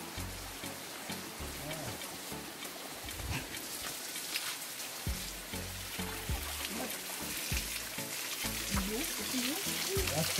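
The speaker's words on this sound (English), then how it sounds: "That's spring water." Spring water at Bath Fountain in St. Thomas, Jamaica flowing and splashing in a steady, close rush, with people talking over it throughout.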